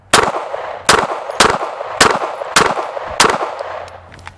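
An FN509 pistol fires six loud, sharp shots at a steady, even pace, each with a short ringing tail; no voices.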